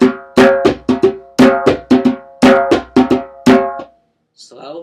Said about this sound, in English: Here's the first. It starts out with a bass stroke, 2 tones, and then a slap.